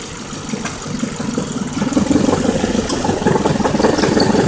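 A 2003 Ford Focus ZTW engine runs steadily with a suspected rod knock, a loud close rattling churn with rapid repetitive knocking that swells slightly partway through, no voices.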